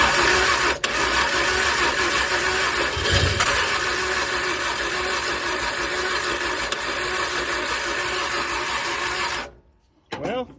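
A Chevrolet 292 engine with no carburetor hooked up cranks steadily for several seconds with only one cylinder firing, giving a loud, continuous rough churning that cuts off abruptly near the end.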